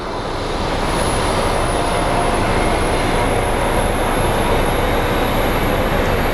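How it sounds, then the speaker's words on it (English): An airliner or its auxiliary power unit running at Phoenix Sky Harbor airport, a loud, steady broadband roar with a constant high-pitched whine above it, sustained without a break and with no talk. "sounds like one of our planes is starting up, or its APU could be starting up."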